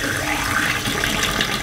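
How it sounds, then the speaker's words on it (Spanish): Water poured down a clogged drain pipe gives a steady, fairly loud rushing and gurgling flow that continues unbroken with no voices. "vamos a dejar vertir el agua, amigos. Vamos a ver si es que realmente se destapó"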